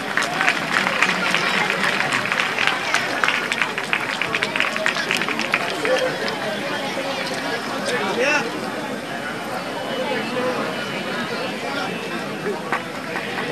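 An audience applauds prize winners at the Maa Saraswati Puraskar Samaroh 2007 ceremony, with steady, loud clapping from a crowd that runs throughout amid general hubbub and chatter.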